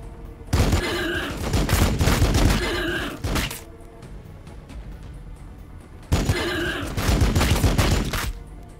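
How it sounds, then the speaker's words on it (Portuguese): Two heavy bursts of rapid gunfire in the Warhammer 40k Battlesector video game, each volley lasting a few seconds with dense thudding shots, separated by a quieter pause. "Vou atirar."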